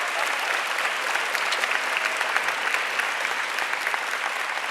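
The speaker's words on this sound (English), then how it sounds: "So please give them a round of applause." Sustained audience applause at a high school senior awards ceremony, a dense, steady wash of many hands clapping together at even loudness throughout, with no voices over it.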